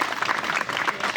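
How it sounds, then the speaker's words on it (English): Audience at a fraternity chapter event gives a short burst of dense, steady clapping. "So a hearty round of applause for him."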